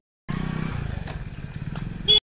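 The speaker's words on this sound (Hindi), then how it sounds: "बाइक लेकर आया भाई" A motorcycle rolls in with a steady, close engine rumble and pulsing throb, then a brief louder burst at the end, outdoors near a well on a hot day.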